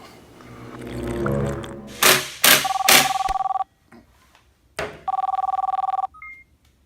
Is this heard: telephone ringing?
yes